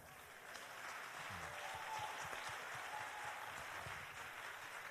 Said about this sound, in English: I think that statement deserves to be applauded